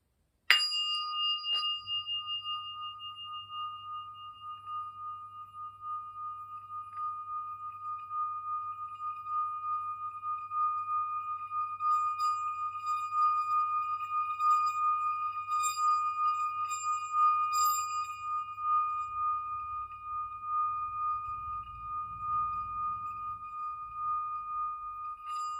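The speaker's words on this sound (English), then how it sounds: "there's a little bit of a noise as I do my sound bowl." A singing bowl is struck once, then rings on as a long, clear, shimmering tone that fades very slowly, soft and close, with a faint low hum beneath it.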